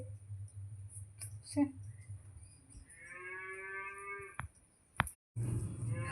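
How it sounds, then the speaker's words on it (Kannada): A cow gives a long, clear moo at close range, preceded by low rumbling and a few soft clicks, followed by another brief low drone. "ದನ ಕೂಗುವ ಸೌಂಡ್ ಕೇಳಿಸುವಾಗ ಖುಷಿಯಾಗೋದು ನನಗೆ"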